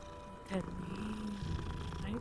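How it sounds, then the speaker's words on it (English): A cat purrs in the video game Hogwarts Legacy, a soft low rumble running beneath a player's speech. "No, that's a cat."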